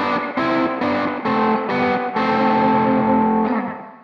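Distorted electric guitar plays harmonized thirds in short repeated bursts, then rings out on a longer sustained chord that slowly fades.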